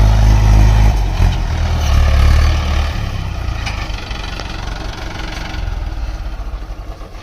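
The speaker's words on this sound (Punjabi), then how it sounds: "ਟਰੈਕਟਰ ਮੁੜ ਕੇ ਆਉਂਦੇ ਇੱਧਰ ਦੇ" A heavy tractor engine rumbles loudly nearby in a farm field, a deep idling throb that eases slightly and continues steadily throughout.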